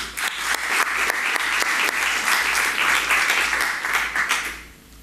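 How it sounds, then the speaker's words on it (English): A conference audience applauds to welcome a speaker to a tech talk, with many hands clapping in a dense, lively burst for about four seconds before tapering off quickly. "And I would like you all to give a very warm applause to Ólafur."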